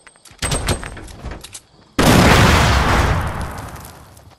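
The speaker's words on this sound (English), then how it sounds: "Grenade." A grenade explosion in Fortnite erupts as a sudden loud broadband blast with a long rumbling decay, following a stretch of smaller gameplay noises and pops.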